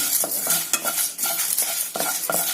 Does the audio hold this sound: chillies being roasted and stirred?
yes